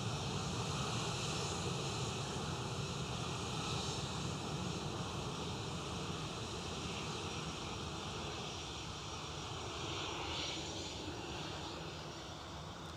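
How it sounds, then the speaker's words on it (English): Airliner engine noise from a KLM jet at Edinburgh Airport, a steady broad roar that stays loud and constant throughout with a slight easing toward the end, heard alone with no talk. "they've turned the noise down on that KLM"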